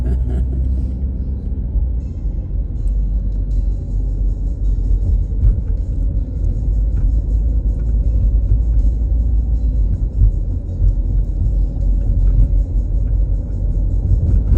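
Interior of a small car cruising on Highway 183 in Kansas between Russell and Hays: a loud, constant low road rumble and engine drone with light rattles, steady for the whole stretch, no talking.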